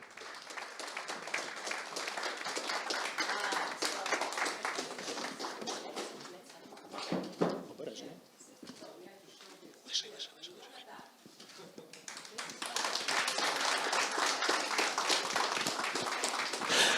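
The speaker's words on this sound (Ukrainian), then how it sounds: "Так, можна, можна аплодувати." Audience clapping at a ceremony handing over school buses in Chernihiv Oblast, Ukraine: dense applause in the opening seconds, a quieter patch with talk, then a strong renewed burst of clapping near the end.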